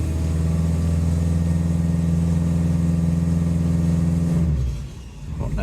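A Honda Jazz with a CVT gearbox sits at a steady, loud high-rev engine drone under full throttle for a burnout, then the revs drop away abruptly near the end, leaving quieter ambient noise.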